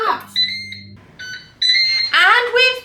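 A Ninja Speedi air fryer beeps to signal it is finished, several loud, close electronic tones in quick succession, with a voice speaking between and over them.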